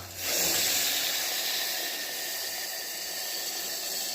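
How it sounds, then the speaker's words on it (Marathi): Water hits a hot pan of roasted soya chunk khichdi with a sudden loud hiss of steam that stays strong and steady for several seconds, close up with no talking. "त्यानंतर आतमध्ये पाणी टाका"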